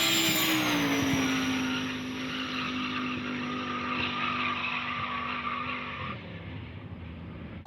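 A car powerskid run at Powercruise in Taupo: a loud, sustained engine roar with screeching tyre squeal holding steady for about six seconds before it fades off.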